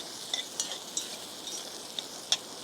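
Onion and carrot frying in a small pot over a campfire-style setting, a soft steady sizzle with occasional sharp metallic clinks of stirring, close and fairly quiet.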